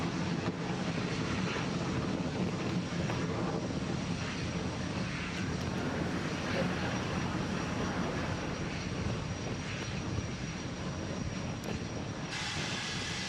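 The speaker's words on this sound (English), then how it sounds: "Vehicles pitching downrange. And we have liftoff." SpaceX Falcon 9 rocket liftoff, a continuous broadband engine roar with steady crackling rumble that stays loud and unbroken throughout, heard from a distance without voices.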